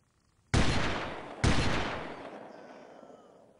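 Two loud gunshots in Delta Force 2, about a second apart, each cracking out sharply and decaying into a long rolling echo that fades slowly.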